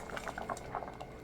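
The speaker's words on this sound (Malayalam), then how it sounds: "നന്നായിട്ട് തിളച്ച് പരിപ്പൊക്കെ നന്നായിട്ട് മിക്സ് ആയിട്ടുണ്ട്." A pot of South Indian sambar with lentils bubbles at a steady boil, its soft, continuous gurgling and popping heard up close with no talk.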